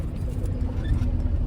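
Heavy road traffic with many cars near a crowded ghat viewpoint, a brief, steady low rumble with no distinct passing vehicle standing out.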